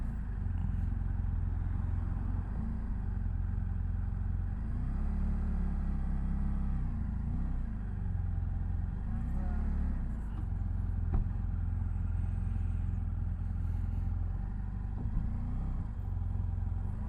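A car drives past on Bixby Bridge near Big Sur in mist and fog, a steady low engine rumble holding for the whole stretch with no clear rise or fall.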